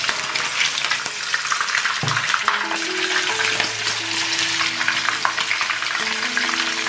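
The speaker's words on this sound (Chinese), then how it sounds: "猪肥膘煸出油了，把鱼放进来，" Fish fries in a wok in fat rendered from pork fatback, making a loud, dense, steady sizzle with faint tonal hums underneath and no talking.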